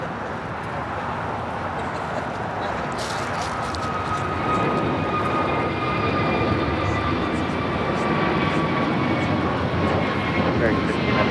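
Airbus A350-1000 airliner on short final to runway 24R at Los Angeles International Airport, a steady, loud engine roar that builds slightly and sustains throughout, with faint talk underneath.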